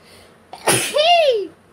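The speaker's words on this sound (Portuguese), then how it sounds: "Ah, espirrei." A single sharp sneeze from a woman doing a makeup stream, a quick intake followed by a loud burst that trails off in a falling tone, close and alone.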